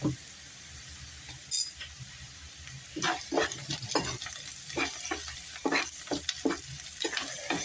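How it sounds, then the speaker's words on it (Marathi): Chopped onion with a pinch of salt sautéing in a pan, heard as a quiet background sizzle broken by repeated scraping stirs of a spoon that come in an uneven rhythm, closely miked. "तर कांद्याला असं छान असं परतून घेऊयात"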